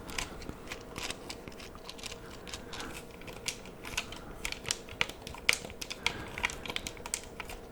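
Clicking and rattling of retro game controller joysticks and buttons, a dense run of small, close plastic clicks tapping out an irregular, fast rhythm with no talk over them.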